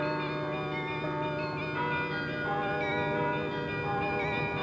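A carillon of 48 tuned bells, the Eijsenbouts Happy Bells carillon, rings out in a dense, sustained wash of overlapping bell tones, loud and steady throughout with no voices.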